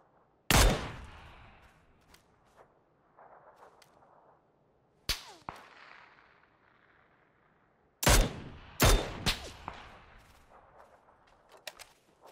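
Sharp, loud gunshots from the PUBG console battle royale, a single crack early, another mid-way, then a quick burst of several shots near the end, each trailing off into a short echo over quiet game ambience.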